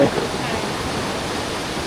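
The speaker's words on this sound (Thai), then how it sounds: "น้ำมาจากน้ำตกเขาบรรจบ" Water from a waterfall flows along a stream, a steady broadband rushing hiss throughout at constant loudness, with no clear speech.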